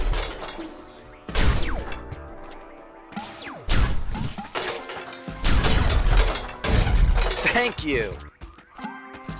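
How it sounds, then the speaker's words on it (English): Explosions go off in Spelunky 2, a string of sharp booming crashes and thuds, one after another at an uneven pace, with a voice talking over them. "so many necessary, unnecessary explosions"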